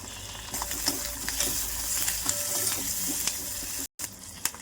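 Curry leaves and dried red chillies crackle and sizzle steadily in hot oil while tempering a dal with ponnaganti greens, with a few sharp pops over a continuous frying hiss and no talking.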